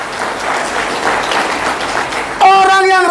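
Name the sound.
church congregation applause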